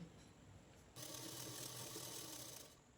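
A sewing machine stitches a lungi, a steady, close mechanical whir that gets louder and faster about a second in and then runs continuously, with no talking.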